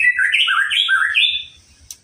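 A white-rumped shama (murai batu) sings a loud, close phrase of clear sliding whistled notes, then stops abruptly, leaving a brief sharp click and near silence.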